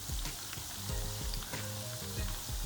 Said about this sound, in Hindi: मीडियम आंच पे आपने इसको फ्राई करना है